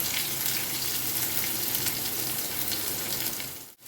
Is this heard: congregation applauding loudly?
no